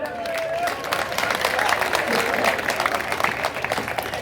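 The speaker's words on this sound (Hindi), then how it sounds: "अगर अच्छा लगा ताली बजाए" Audience clapping steadily at a Hindi comedy show, a dense, continuous wash of applause that holds at full strength throughout with no voices clearly above it.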